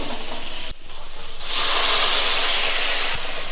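Water splashes into boiled potatoes frying in a pan, raising a loud, sustained hiss of steam and sizzle that swells after a brief dip and holds steady to the end.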